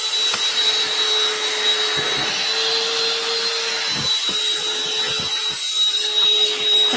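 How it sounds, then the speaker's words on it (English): A vacuum cleaner sucks up dust from cut cuddle fabric, giving a steady, close, high whine with a constant hum underneath and small shifts as the nozzle moves. "Let me just grab my vacuum real quick and I will vacuum that part up so it's not super dusty"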